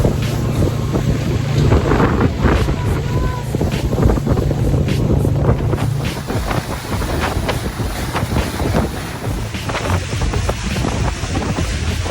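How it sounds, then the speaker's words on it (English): Heavy wind buffets the microphone on a boat near Lime Cay, Jamaica, a loud continuous roar mixed with engine hum and water noise. "Man, the wind blow up."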